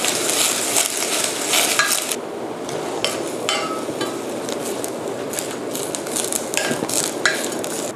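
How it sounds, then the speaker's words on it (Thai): Spinach and onion stir-fried in a pan for spinach cream soup, a steady close sizzle under repeated scraping and clattering of a utensil against the pan, no talking. "เราก็จะใส่ผักโขมลงไปผัดด้วยกันนะคะ"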